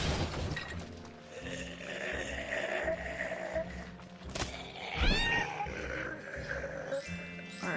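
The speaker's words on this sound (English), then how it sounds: "Skeleton kitties!" Skeleton cats meow in the video game American McGee's Grimm, their cries rising over a busy, eerie game soundtrack and effects, with one sharp, sweeping meow standing out near the middle.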